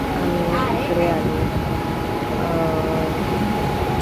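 A train hums and rumbles steadily at Mumbai Central railway station, heard close under ongoing talk.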